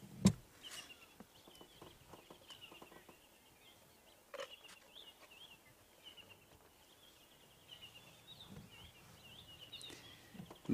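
Birds call at a safari site at sunrise, thin repeated high chirps running steadily through the clip over a quiet outdoor background, with a few faint knocks and rustles.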